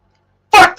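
A single short, sharp sneeze bursts out close by after a moment of silence, followed by a faint trailing breath.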